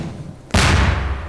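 A single loud gunshot in the video game Garry's Mod cracks out abruptly, followed by a sustained booming roar that rings on and decays slowly, with no talking.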